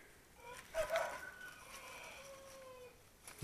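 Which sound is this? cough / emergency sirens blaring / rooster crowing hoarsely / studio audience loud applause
rooster crowing hoarsely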